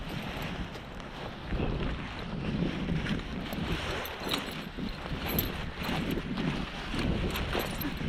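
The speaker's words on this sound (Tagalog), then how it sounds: "Malakas talagang hangin, no?" Strong wind roars and buffets the microphone in a steady, rushing stream with gusty surges throughout, close and fairly loud, with no clear voices.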